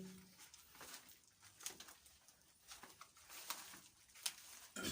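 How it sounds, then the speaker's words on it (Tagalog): Swiftlets, small black birds, fill a shallow cave with a dense, continuous chatter of quick chirps and twitters, fairly faint and steady throughout with no talk. "ang daming ibon"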